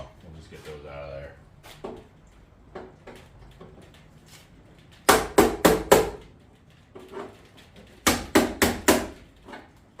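Bushings being knocked out of an electrical panel: a few sharp metallic taps, then two quick clusters of four loud rapid knocks, with quieter handling sounds in between.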